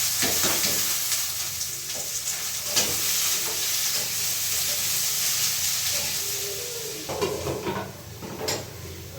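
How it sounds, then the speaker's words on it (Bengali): Potato bhaji fries in a pan on the stove with a constant loud hissing sizzle, broken by a few scraping stirs, and the sizzle eases slightly toward the end. "আর এখানে হচ্ছে আলু ভাজি বসিয়ে দিলাম"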